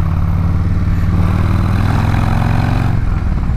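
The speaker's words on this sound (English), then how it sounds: "That's the sound you hear from the bike, from the pipes." Motorcycle exhaust pipes idling up close, a steady deep throaty rumble with an even pulsing texture that holds at constant loudness throughout.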